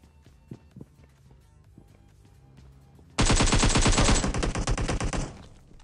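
Heavy automatic gunfire in PUBG Battlegrounds Mobile erupts suddenly after a quiet stretch with faint footsteps, then rattles as a loud, rapid, dense burst for about two seconds before cutting off and fading.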